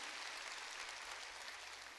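Steady, dense clapping from a large church congregation during a sermon, continuous and even throughout with no voices standing out.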